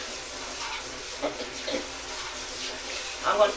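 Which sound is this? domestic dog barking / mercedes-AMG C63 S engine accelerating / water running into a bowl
water running into a bowl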